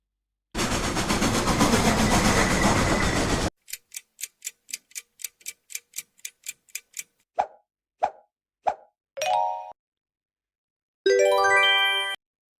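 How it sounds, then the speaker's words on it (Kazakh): A steam locomotive gives a loud burst of steam hiss, then a quick run of rhythmic ticking chuffs slowing into a few separate hoots, and ends with a short, bright whistle blast. "Я, керемет, бұл паровоз."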